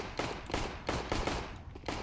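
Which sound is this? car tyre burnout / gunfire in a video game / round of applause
gunfire in a video game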